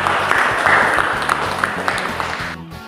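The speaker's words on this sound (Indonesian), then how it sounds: "Kita beri aplaus untuk kelompok yang ketiga." A classroom audience claps for a presenting student group, giving a dense, steady patter of hands that carries on for a few seconds before it suddenly cuts off.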